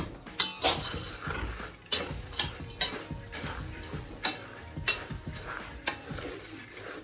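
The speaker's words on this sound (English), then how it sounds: "now I'm just going to stir this" A thick granola bar mixture studded with dark chocolate chips is stirred in a bowl, giving a steady run of close scraping, clicking spoon strokes at a brisk rhythm with no talking.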